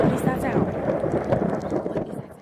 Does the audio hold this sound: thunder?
yes